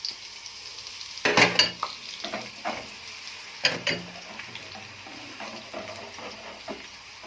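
Minced garlic sizzles in a few spoonfuls of oil left from frying onions for koshari, with a soft background hiss under intermittent clattering spoon stirs and scrapes at close range.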